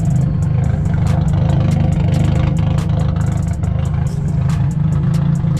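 A car engine with a cammed-sounding idle that needs a tune, rumbling loud and close in a steady, lumpy rhythm with light clatter throughout and no voices.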